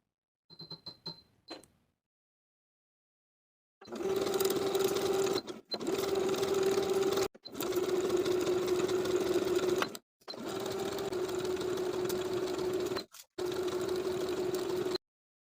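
A sewing machine bastes swimsuit lining with a narrow, long zigzag stitch: four sustained runs of steady motor whir and needle chatter, each a few seconds long, separated by short pauses, close and alone.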